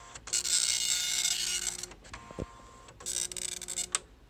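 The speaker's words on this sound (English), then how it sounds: "you can even see it's printing on the roller" A Star Micronics NX-15 wide-format 9-pin dot matrix printer prints on a dusty roller, two loud buzzing print passes separated by a short pause with a carriage thump, close up and without talk.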